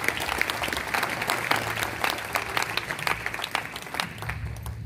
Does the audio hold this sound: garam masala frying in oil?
no